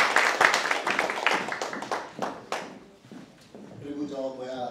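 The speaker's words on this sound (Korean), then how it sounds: "박수 한번 부탁합니다." A graduation concert audience applauds for a professor, a dense burst of clapping that thins into scattered claps and fades, followed by someone speaking.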